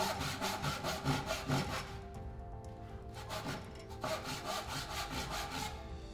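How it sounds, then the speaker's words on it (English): A hand saw cuts through timber clamped upright in a vise, sawing down from the top in steady back-and-forth strokes, with a short pause mid-cut before the rhythmic rasping resumes, close and clear with no talking. "Now he's going to put the timber in vertical and cut it down from the top."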